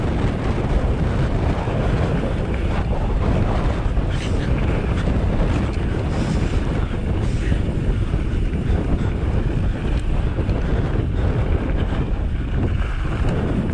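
Strong wind buffets the microphone on a mountain bike trail in Tehachapi, a loud, continuous rushing roar with steady gusts throughout and no clear speech.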